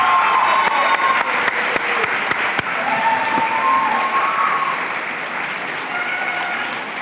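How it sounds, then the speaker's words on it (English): A crowd at an athletics awards ceremony gives a big round of applause for an honoured athlete, dense continuous clapping with a few sharp louder claps early on, slowly easing off. "Big round of applause."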